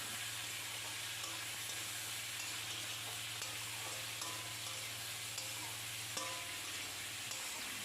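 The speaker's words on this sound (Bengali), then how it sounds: "সব কিছু খুব ভালো করে নেড়ে চেড়ে আমি কষিয়ে নিচ্ছি" Spices, grated ginger, tomato and green chilli sizzle and fry in a pan while being stirred, a steady close hiss with a low hum underneath and occasional faint clinks, no voices.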